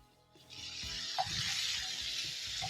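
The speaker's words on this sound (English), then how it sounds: "So you're going to cook the liver in the cooking oil for around a minute." Pieces of liver sear in hot cooking oil for a liver masala, a steady close sizzle that starts after a quiet moment and keeps going under faint stirring clinks.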